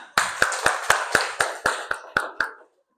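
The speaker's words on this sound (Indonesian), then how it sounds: "Ya, tepuk tangan." Schoolchildren clap in a slow, even rhythm, about ten sharp claps spaced roughly a quarter second apart, close and crisp, then stopping.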